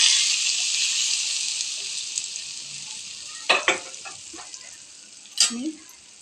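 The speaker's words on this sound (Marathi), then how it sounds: "हिंग टाकून लगेच असं तडका देणार आहे" Mustard seeds, asafoetida and curry leaves tempering in hot oil for a sweet-sour raw mango chutney: a loud steady sizzle that slowly fades, then several sharp crackles and spatters, close by with no talk.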